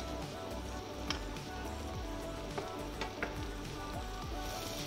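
Bell peppers frying in a pan for a braised fish and chicken dish, a steady close sizzle with occasional pops and light stirring clicks, no voices.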